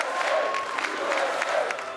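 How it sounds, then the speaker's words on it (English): A crowd applauds and cheers for Donald Trump on election night 2016, dense clapping and shouts blending into a steady roar heard from a distance. "Election night 2016, and Donald Trump is soaking up the applause, surrounded by his children."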